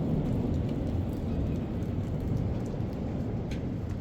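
Heavy monsoon rain pouring steadily outdoors in Noida with large drops falling, a dense continuous wash of rain noise throughout, with no voices.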